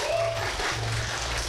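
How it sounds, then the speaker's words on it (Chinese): A live audience at the Chinese quiz show 一站到底 gives brief, steady applause during a 2018 world elite university challenge in Washington, USA. The clapping forms a short, even wash of moderate loudness. "也给我点掌声"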